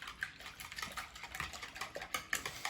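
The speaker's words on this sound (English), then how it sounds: "I'm just gonna whisk these." Milk whisked into eggs in a bowl, a quick, busy clatter of whisk wires scraping and ticking against the sides, close and moderately loud, with no talk over it.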